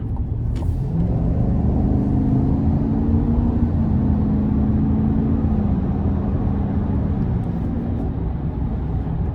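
A 2024 GMC Sierra 1500 Denali pickup with a 6.2 V8 accelerating up an interstate on-ramp, its engine a loud, steady rumble that swells gently with light throttle under constant road noise, with no talking.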